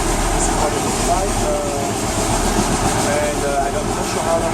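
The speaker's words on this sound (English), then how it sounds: "So we are on the train now. We are moving on our way to Casablanca." Inside a passenger train rolling from the airport toward Casablanca, Morocco, a steady low rumble and broadband cabin noise run continuously, with faint tonal whines, close and moderately loud.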